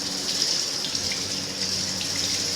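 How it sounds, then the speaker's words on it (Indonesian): Tap water runs steadily from a faucet as hands are rinsed during a tuberculosis lab procedure, a close, continuous splashing hiss with no talking. "Kemudian bilas tangan dengan air mengalir kembali."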